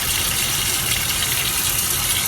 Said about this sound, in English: keep it under the warm water